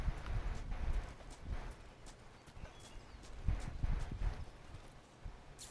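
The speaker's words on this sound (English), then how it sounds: "I hear footsteps." Footsteps in the video game Metal Gear Solid Delta: Snake Eater, a faint run of soft, uneven thuds with a clip-clop rhythm over low ambient rumble.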